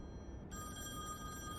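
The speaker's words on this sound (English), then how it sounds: "Yo, that's my phone." An old-style telephone bell starts ringing in The Wolf Among Us game, a steady tonal ring rising over a low background hum, fairly faint and with no speech.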